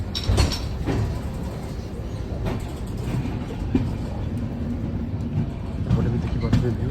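A train rolling slowly past on a morning journey, a steady low rumble with faint clanks and rattles throughout, while someone talks over it.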